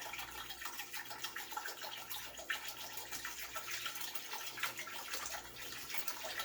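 Water from a one-gallon jug poured into a cooking pan for chicken and dumplings, a steady continuous splashing stream that runs unbroken and fairly close, with no talking over it.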